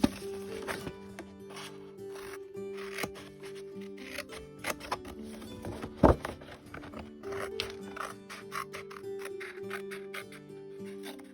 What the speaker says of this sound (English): So once I cut the box open, I can cut off the flaps